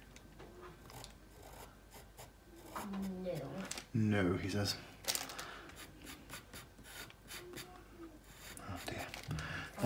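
Pastel pencil scratching across paper while drawing a spaniel puppy, bursts of scratchy strokes scattered through the passage, with someone talking over much of it.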